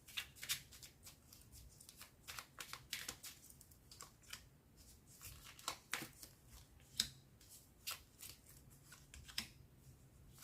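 Blue tarot cards are shuffled by hand in a quiet room, giving repeated close, soft riffling and slapping bursts in an irregular rhythm.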